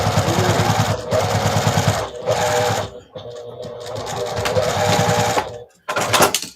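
Sewing machine stitching light fabric for a mini bag, its needle chattering in fast rhythmic runs up close, broken by brief pauses and short restarts.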